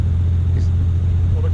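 Jaguar E-Type driving on a road produces a loud, steady low engine drone and road rumble that fills the whole moment, with faint voices underneath.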